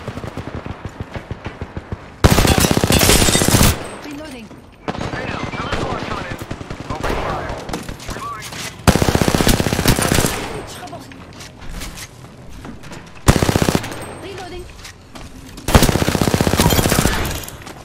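Rapid automatic gunfire in the Apex Legends video game comes in loud, close bursts with short pauses between them, mixed with single shots and voice callouts.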